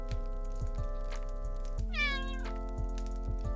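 A cat gives a single clear meow, a rising, wavering call over a steady low household hum and faint regular ticking.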